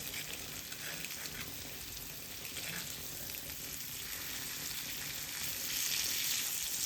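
Pomfret fish frying in a pan over a slow flame, a steady close sizzle with fine crackling spatter that holds throughout and swells slightly louder near the end, with no talking.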